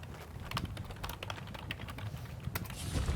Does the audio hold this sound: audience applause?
no